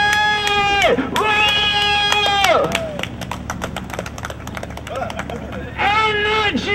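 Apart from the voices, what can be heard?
street show crowd clapping and cheering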